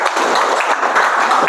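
Students in a classroom clap for their classmates in a short, steady burst of dense applause.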